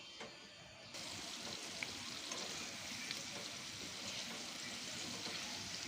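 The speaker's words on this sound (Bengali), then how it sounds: "আমি নিচের পার্ট 2 মিনিট ভেজে নিচ্ছি অফ ক্যামেরায়।" Chicken cheese balls fry in hot oil with a steady, even sizzle, close and continuous, beginning after a brief quieter moment and holding at a constant level with no talking.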